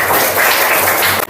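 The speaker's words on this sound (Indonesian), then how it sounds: "Tepuk tangan dulu dong," Children in a classroom clap together in a short, steady burst of applause that fills the room, then it cuts off abruptly at the end.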